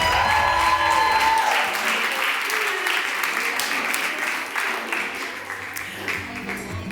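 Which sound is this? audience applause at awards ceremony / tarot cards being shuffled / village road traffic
audience applause at awards ceremony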